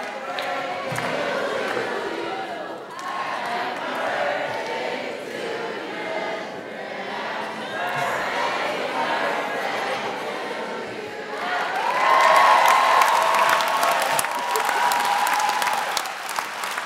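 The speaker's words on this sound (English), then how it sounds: "give him a round of applause" An audience at the University of Minnesota MCAE Celebration of Achievement applauds for a birthday, a sustained wash of many hands clapping that swells louder and brighter near the end, with a few cheers.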